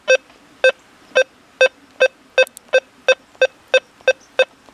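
Deus 2 metal detector on its fast program sounding over a 10-carat gold ring near a metal pole: a steady train of about eleven short, clear electronic beeps, evenly spaced and close, with no talking.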